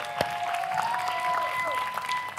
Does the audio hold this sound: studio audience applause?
yes